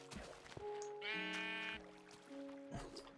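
Sheep bleating in a Minecraft-style farming video game, a few quiet, clear bleats over a soft trickle of flowing water in a cave, with no talk.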